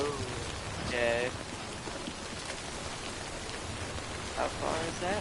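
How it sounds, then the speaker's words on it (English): Rain falling in the video game Death Stranding, a continuous soft hiss of rainfall with faint tonal game sounds and brief sparse noises over it. "it's raining out here"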